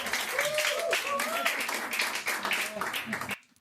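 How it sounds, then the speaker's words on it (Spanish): Church congregation applauding during a service, loud mixed clapping with voices and cheers mingled through it, cutting off abruptly near the end. "Dele un fuerte aplauso"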